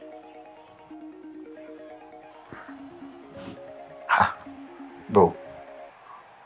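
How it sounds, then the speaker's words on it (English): A phone's ringtone plays a stepped electronic melody that keeps ringing, moderately loud, and a voice breaks in briefly near the end. "your phone has been ringing for so long"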